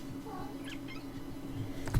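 House cat meowing indoors, a few short faint mews in quick succession over a low electrical hum, ending with a brief bump.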